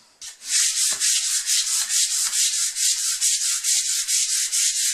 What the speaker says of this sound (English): Let me get some of this lacquer off.